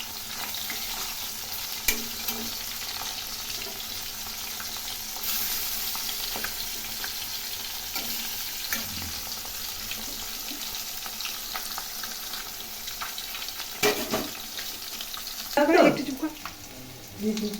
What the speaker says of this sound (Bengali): রুই মাছগুলো নুন হলুদ মাখিয়ে ভেজে নিচ্ছি।